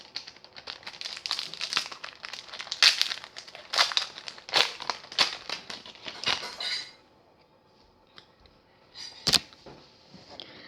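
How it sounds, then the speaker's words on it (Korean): Crinkly foil wrapper of a Shining Victories trading card booster pack is torn and crumpled open up close in a run of sharp rustles, followed by near quiet and one last crackle. "오늘은 사이닝 미토리즈 5팩 개봉 영상을 찍도록 하겠습니다 먼저 첫 번째 팩"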